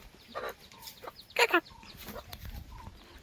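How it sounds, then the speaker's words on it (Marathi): Chickens with chicks cluck in a village yard, with a short burst of loud, close clucking in the middle and softer scattered calls around it. "कोंबड्या"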